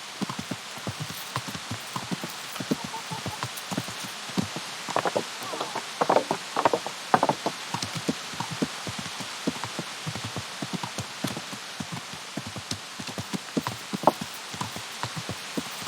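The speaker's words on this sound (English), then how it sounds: "I hope the rain is not too loud." Rain in the medieval game Kingdom Come falls as dense continuous patter full of sharp droplet ticks, with a rhythmic clopping of horse hooves mixed in throughout at moderate, close loudness.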